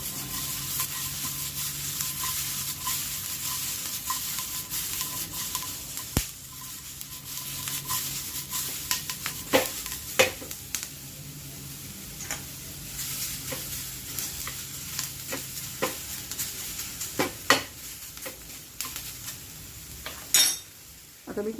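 Capsicum and other vegetables pan-fry over a high gas flame, giving a steady close sizzle, broken by scattered clinks and scrapes of a utensil stirring against the pan.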